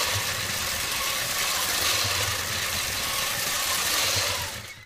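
A vintage 1976 LEGO 12V train motor runs at full throttle, a loud, steady mechanical whir and rattle that holds constant for several seconds and then cuts off.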